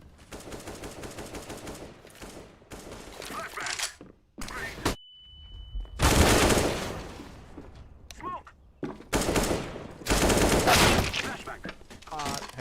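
Rapid bursts of automatic gunfire from the Counter-Strike: Global Offensive video game, loud and near, in several separate volleys with brief gaps, while players talk over parts of it.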